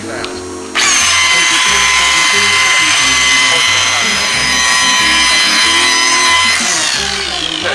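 A power polisher spinning a foam pad with buffing compound on the paint of a 1970 AMC Javelin, a steady loud high whine that starts abruptly and runs continuously, with a person talking underneath.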